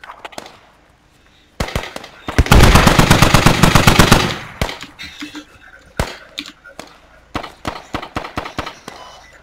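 Gunfire in the military shooter game Squad, with a sustained automatic burst up close, followed by scattered single shots and short bursts at varying distances.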